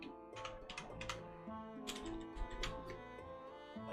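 Keys clatter on a computer keyboard in quick, uneven bursts while playing Dwarf Fortress, the clicks sitting under steady tonal game music.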